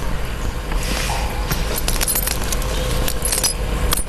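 Car keys jangling in a bunch, a steady metallic rattle with bright clinking accents and a few sharper jingles near the end, fairly close and loud with no talk.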